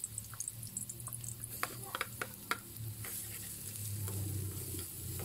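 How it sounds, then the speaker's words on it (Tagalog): Minced garlic sautéing in oil with ginger for Filipino chicken tinola gives a steady sizzle, with scraping spoon strokes and light clinks against the pan throughout. "Tintayin lang po natin na maging medyo brown po yung bawang."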